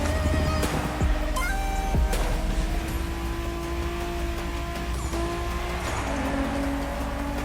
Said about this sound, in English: the way the transmission sounds too when you're changing gears, it sounds like a laser going off